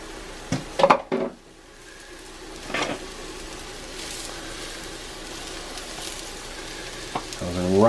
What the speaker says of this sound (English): So heating up the pan. Alright, we're going mushrooms first.